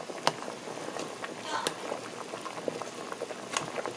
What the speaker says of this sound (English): the water is still boiling